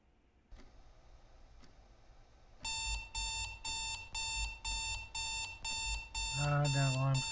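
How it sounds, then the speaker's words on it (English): An alarm clock goes off with loud, rhythmic electronic beeps pulsing about twice a second after a quiet stretch, then turns continuous while a voice speaks over it. "Ah, that alarm's going off again."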